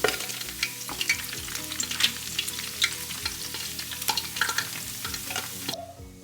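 Fish frying steadily in hot oil, a dense crackling sizzle with scattered pops and spatters throughout, close up, before a brief quieter moment at the end.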